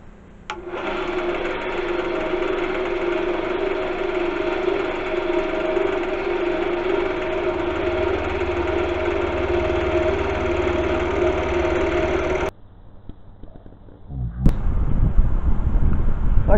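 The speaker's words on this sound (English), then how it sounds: "then we'll start getting some drilling done" A steady mechanical whirr of a lathe running with a drill bit working into wood for a decorative smoking pipe, holding constant for a long stretch before cutting out abruptly, then a louder rumbling burst.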